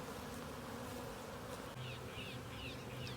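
Honey bees buzz steadily around an open top-bar hive during an inspection, a continuous faint drone with individual bees whining past up close, and no voices.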